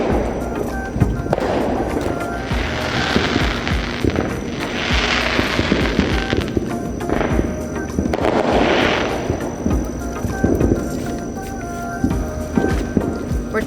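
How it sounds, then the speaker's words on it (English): Fourth of July fireworks going off around a residential neighborhood, a loud, continuous stretch of bursts and crackling pops with distant booms, with people talking over it. "We're chasing the fireworks on the neighborhood."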